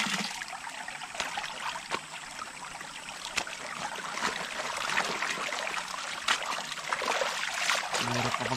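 Water trickles and streams steadily through a garden with ferns, a continuous close babbling flow with occasional soft clicks and no talk.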